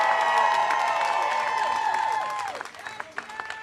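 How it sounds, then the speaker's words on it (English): Press conference audience in Washington, DC applauding and cheering for congressional Medicare for All supporters, a sustained wash of clapping with voices whooping over it before it thins into scattered claps near the end. "let's give them a big round of applause"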